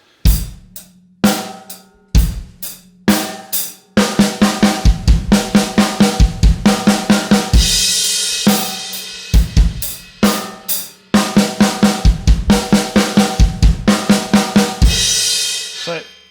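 A drum kit plays a steady groove with dense runs of quick, even sixteenth-note linear fill strokes and crashing cymbals, loud and close, with short pauses between phrases.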